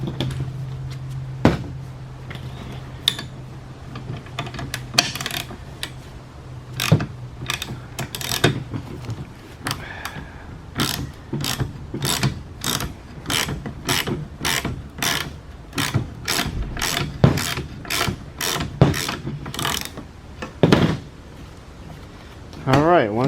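A ratchet works on the front strut spring of a 1999-2003 Acura RSX, starting with scattered clicks and settling into a steady run of sharp, close clicking, with some talk near the start.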